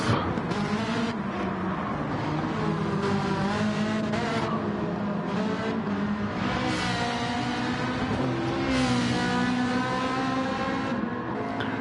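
Race cars in a URL Saturday League race lapping a track, engines droning and shifting pitch continuously as cars rise and fall in revs, loud and steady, with commentary running over them.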